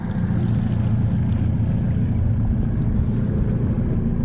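A fishing boat's outboard motor running steadily on the water, a loud continuous low drone with wind and water noise and no break over the few seconds.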